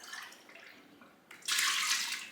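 Water is poured into a measuring cup while measuring ingredients for a honey compote; a faint trickle builds into a louder, bright splashing stream partway through the short stretch.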